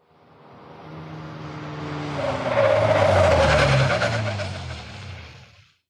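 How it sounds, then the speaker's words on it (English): A cab's tires screech long and loud as it brakes hard to a halt, the skid swelling to a peak midway and then fading, with engine rumble beneath and no voices. "The cab screeched to a halt as the driver applied the brakes"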